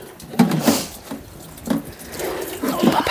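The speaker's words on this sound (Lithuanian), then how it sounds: "Gerai, aš vandenio leist." Water runs from a tap in uneven splashing bursts, close by, with a few faint bumps and clatters.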